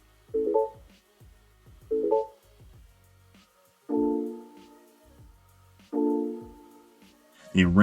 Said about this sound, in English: The ringtone you can change.